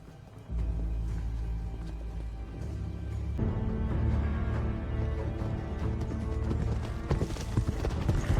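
Horses' hooves clip-clop steadily in a dramatic TV scene, a dense rhythmic clatter over deep rumbling score, continuous and fairly loud throughout.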